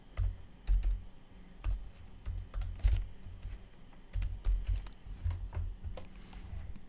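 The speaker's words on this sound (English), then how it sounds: "I will type this out" Rapid typing on a computer keyboard while entering a website address, close and clear irregular key clicks in quick runs with brief pauses, no voices.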